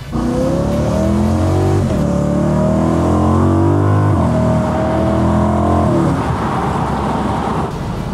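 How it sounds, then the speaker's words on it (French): A powerful 1992 BMW M3 engine revs hard and steadily, its pitch sweeping up and down through several loud, sustained pulls before easing off. "on pourra jamais sur Terre refaire le bruit d'une M3 92"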